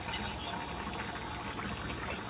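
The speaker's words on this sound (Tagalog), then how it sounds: "Nilagyan ko ng tubig." Chicken broth from earlier-boiled chicken is poured into a cooking pot holding carrots, giving a steady, fairly soft gush of liquid that runs continuously with no pauses.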